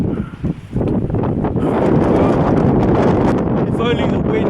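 Strong wind near the summit of Ben Nevis buffets the microphone in a loud, continuous roar that builds after a brief lull at the start.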